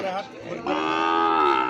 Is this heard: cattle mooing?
yes